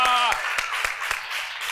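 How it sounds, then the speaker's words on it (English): A children's show audience applauds the arrival of Professor Vector: a voice trails off, then scattered, fairly thin claps and applause follow, with a few sharper hand claps standing out. "Boys and girls, please give a round of applause for Professor Vector!"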